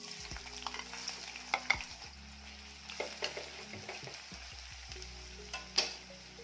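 Onion fries in hot oil in a pan with a soft, close sizzle. Irregular stirring taps and scrapes sound against the pan, with a low background hum.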